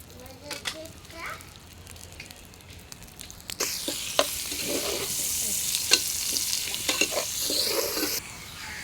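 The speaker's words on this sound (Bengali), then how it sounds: "পেঁয়াজ ভালো করে ভাজা শেষ।" Onions frying in a pan with spoon stirring, a soft sizzle that grows louder and denser partway through, with scraping strokes and faint voices in the background.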